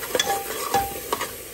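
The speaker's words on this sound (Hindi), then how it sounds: "इसको अच्छे से चलाते रहिए जब तक कि ये टमाटर अच्छे से मैश ना हो जाए" A spoon stirs tomato masala in a pan for a Punjabi-style bottle gourd curry, scraping in a few soft strokes over a low, steady sizzle of frying spices, with no voices.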